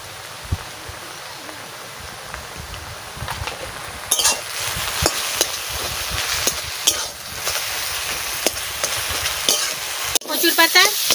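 Taro leaves with turmeric frying in a pan, a steady sizzle under repeated scraping and stirring strokes that grow louder and busier midway, ending with a sharp metallic clatter.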